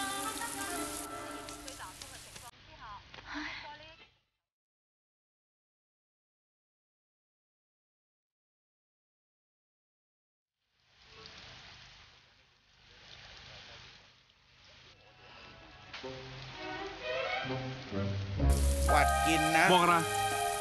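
Heavy rain falling, a broad hissing wash that cuts out to near silence for several seconds, then returns and builds louder toward the end, with faint talk in places.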